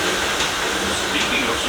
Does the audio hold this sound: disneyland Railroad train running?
yes